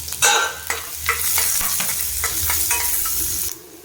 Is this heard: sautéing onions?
yes